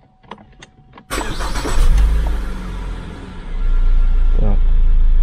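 A car engine started during a Launch X431 V diagnostic test: a few faint clicks, then the starter catches with a sudden loud roar that settles into a rumbling idle before rising again, with someone speaking at the start.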